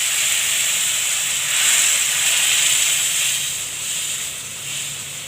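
Mung bean soup hits a hot pot and sizzles, a loud, steady hiss that swells and fades slightly throughout, with no other sounds.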